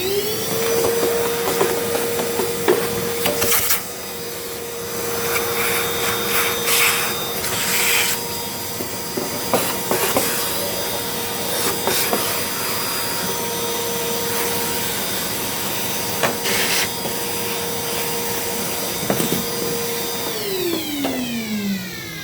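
Shop vac running continuously while cleaning out an Anfim Scody II coffee grinder, a steady near whine with scraping and rubbing of the nozzle against the grinder, winding down at the end.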